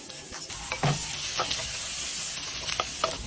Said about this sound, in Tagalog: Ginisa na natin ang ating bawang, sibuyas at ang ating luya at ang ating pangpaanghang.